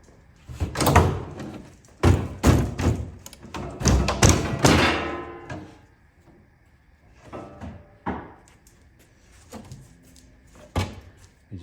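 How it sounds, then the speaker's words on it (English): A rubber mallet knocks open the shipping box of a Vevor 7x16 mini metal lathe: a rapid cluster of loud, close thuds and knocks, then slower, scattered blows trailing off. "So I'm gonna use this rubber mallet"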